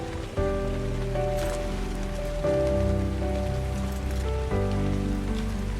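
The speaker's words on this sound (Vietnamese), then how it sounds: "cơn mưa che kín cả bầu trời" Rain in the video game ARK: a steady wash of rainfall continues throughout, with sustained tonal game music layered over it and no voices.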